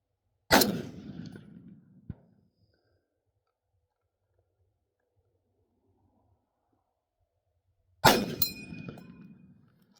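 A gunshot cracks at a shooting range, followed by ejected brass cartridge casings clinking and pinging on a hard surface; after several seconds of silence, a second shot rings out with more metallic tinkling.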